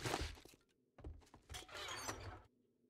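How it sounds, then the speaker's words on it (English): Crates being broken open in the survival game 7 Days to Die, a few short thunking, cracking impacts in quick succession with rattling debris, fairly loud and close, no talk. "Don't break the box,"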